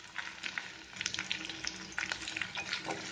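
Potato masala with salt sautéed in a pan, giving a close, steady sizzle with scraping stir strokes throughout, no voices.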